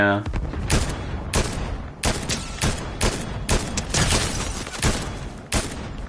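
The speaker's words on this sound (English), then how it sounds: "I'm like in the middle of this firefight." Rapid bursts of gunfire fill a Fortnite firefight, with repeated volleys of loud shots in an uneven rhythm over about six seconds, and a voice talking beneath the shooting.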